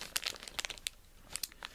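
A small plastic bag from a Playmobil tipper truck toy set crinkles close up in short, sharp bursts, quiet and with no talk.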